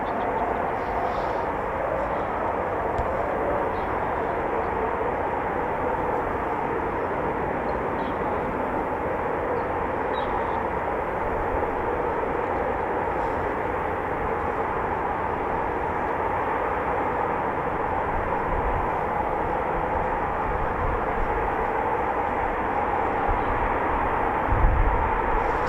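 A Eurofighter Typhoon FGR4 fighter jet at RAF Coningsby roars steadily throughout, a loud, sustained broadband jet rumble with no talk over it.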